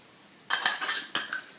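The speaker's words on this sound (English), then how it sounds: "Let's stir it to see." A spoon stirs egg dye in a pot, giving a few quick, close metallic clinks and scrapes against the pot's side in a short irregular burst.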